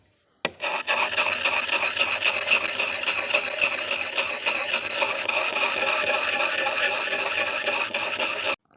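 The blade of a long-handled adze is rubbed over a 220-grit water stone, once an oil stone, degreased for use with water: a steady, close, continuous gritty rasp that runs unbroken for about eight seconds, with no talk.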